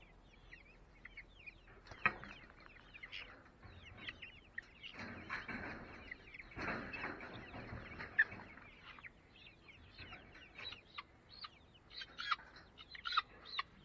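Chickens cluck and murmur in a large DIY coop, a busy layer of soft overlapping calls with a few sharper squawks, fairly close and moderately quiet throughout.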